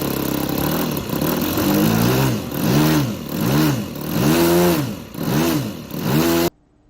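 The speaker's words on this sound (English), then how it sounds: "It's got a nice sounding 4-stroke on it." A four-stroke engine on a model Fokker aircraft flying, a mid-pitched drone that swells and fades in repeated waves as it passes, loud and fairly near, then cuts off abruptly.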